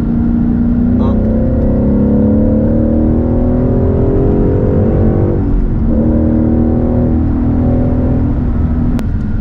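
A Ford Mustang 5.0 V8 accelerating hard from inside the cabin, its loud, deep engine roar rising steadily in pitch through a gear change and then climbing again.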